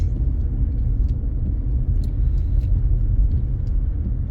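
A car driven over a snowy Montréal road, accelerating with its wheels slipping sideways: a steady, loud low engine and tyre rumble running throughout, with no clear change or skid burst standing out.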